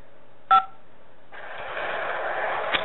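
A telephone keypad gives a single short DTMF beep, followed after a pause by a steady hiss of line noise on a call. The beep is faint, with another slight click near the end.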